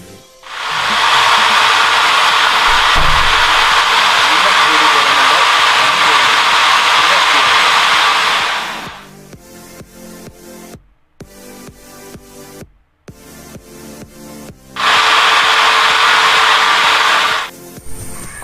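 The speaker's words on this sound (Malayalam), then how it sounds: "ഇനി നമ്മളൊരു കോൺക്രീറ്റ് കട്ടയിൽ നമ്മളൊന്ന് ഡ്രിൽ ചെയ്യുവാണ്" A new electric drilling machine bores into a concrete block, its loud whining motor running steadily for several seconds, pausing amid scattered clatter, then whirring again in a shorter burst.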